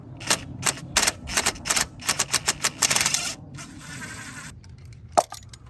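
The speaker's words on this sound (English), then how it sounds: "Now we have access to the 10mm bolt, and we can remove the entire ignition coil." A ratchet loosening the 10mm bolt on a Chevrolet Trailblazer ignition coil: a fast run of sharp, close mechanical clicks in quick bursts, then a pause and one last louder click.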